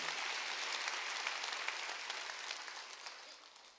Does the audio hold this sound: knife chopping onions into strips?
no